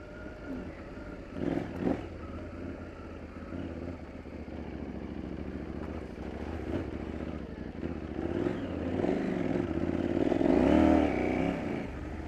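A KTM 790 Adventure R motorcycle idles and churns with its rear wheel spinning in mud, a low, rough engine drone with scraping clatter that swells louder toward the end.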